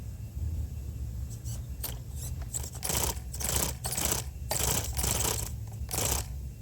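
A Mofo Servo Beast micro crawler servo whirs back and forth in quick shaky bursts, a close buzzy whine repeating about a dozen times over a low steady hum.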